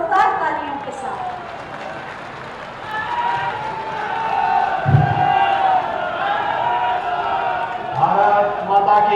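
Audience at a chief minister's public inauguration event in Gorakhpur breaks into applause, a broad crowd clatter of clapping that swells under ongoing voices and announcements.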